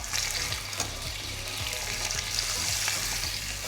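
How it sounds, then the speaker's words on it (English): Squid laid cut side down on a hot oiled griddle pan sizzles and spits continuously, a close, bright frying hiss with small crackles and no talking. "So the oil's gone into my hot griddle pan, and we're just gonna pop this squid cut side down, straight on top."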